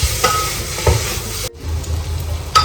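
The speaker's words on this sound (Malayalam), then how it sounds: "ആ പരുവം വരെ ഒന്ന് നന്നായിട്ട് മിക്സ് ചെയ്ത് കൊടുക്കാം." Tomato masala stirred and mashed in a hot pan for a pulao, with close, continuous sizzling and scraping strokes of the spoon, briefly dipping before resuming.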